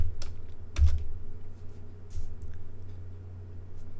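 Keystrokes on a computer keyboard entering coordinates into Rhino's command bar, a few soft clicks spread across a quiet stretch, close and faint with no talking.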